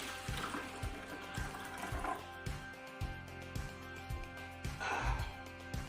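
Electrolyzed reduced water is poured into a container, a soft continuous splashing trickle that swells and fades under steady rhythmic background music.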